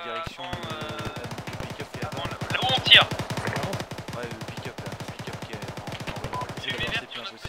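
Rapid automatic gunfire from the Arma 3 video game, dense bursts of shots rattling almost continuously through the whole stretch, loud and close with a sharper blast near the middle.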